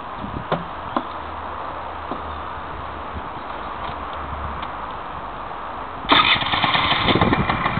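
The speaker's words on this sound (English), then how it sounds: "just see if she'll start up." Quiet background hum with a few light knocks, then a motorcycle with a sports exhaust suddenly fires up near the end and keeps running loudly.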